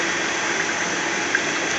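Water and sludge gushing from a purifier unit of an installed glass-processing water purifying system into bags, a steady rushing, pump-like flow close by with no speech.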